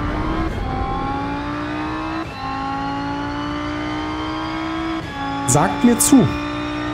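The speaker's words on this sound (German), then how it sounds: "Sound kann sich beim Audi echt sehen lassen" An Audi race car in the Rennsport racing game hums with a steady engine drone while driving over curbs, with short revving bursts near the end and someone speaking briefly over it.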